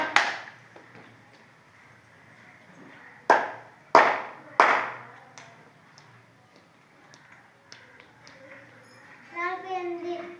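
Four sharp hand claps sound close by in a classroom while counting tens, coming in a quick uneven run among a child's and adult's speech.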